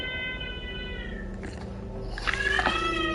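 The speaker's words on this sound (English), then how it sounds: "A kitten." A kitten mews in a few high, wavering cries, loudest near the end, close by over a steady low background hum.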